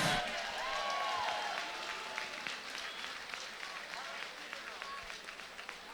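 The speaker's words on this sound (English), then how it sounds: "let's have a round of applause for these two great fighters" An audience applauds two fighters at a combat sports event, a steady wash of clapping and crowd noise throughout, with a voice talking over it.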